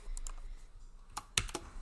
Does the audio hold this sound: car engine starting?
no